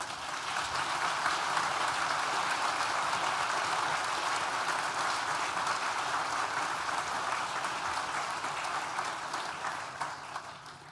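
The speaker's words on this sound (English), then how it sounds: "Please join me in thanking them with a very well-deserved round of applause" Audience at a university graduation ceremony for a school of art and design applauding, a steady, full round of dense clapping that holds evenly for about ten seconds before tapering slightly.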